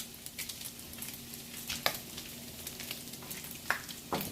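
Bacon fries in a pan with potatoes and beans, giving a steady low sizzle broken by a few sharp pops and spoon scrapes. Close and fairly quiet, with no voices.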